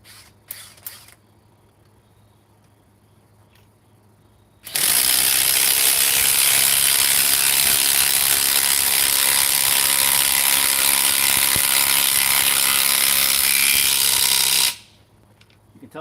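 A cordless impact driver drives a screw fitted with a washer into wood, a loud, steady, close rattling hammer that runs for about ten seconds before stopping abruptly.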